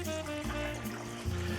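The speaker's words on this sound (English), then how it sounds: "cover them with cold water by at least 1 inch of water" Cold water is poured from a pot or jug over cut potatoes in a cooking pot. The pour is a steady, close liquid trickle with no one talking.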